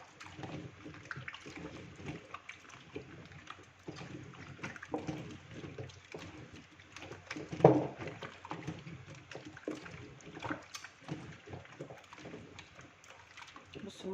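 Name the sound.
taro washed and rubbed by hand in water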